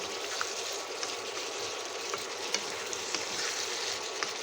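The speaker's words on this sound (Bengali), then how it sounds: "গুঁড়ো মশলা দিয়ে শসাটাকে খুব সুন্দরভাবে কষিয়ে নিলাম।" Cucumber sautéing with ground spices in a pan, a steady close sizzle and hiss with faint occasional clicks of stirring, no voices.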